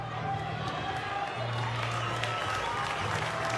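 Rugby league grand final crowd with fans of both teams applauding, a dense, steady patter of clapping across the stadium beneath a commentator speaking.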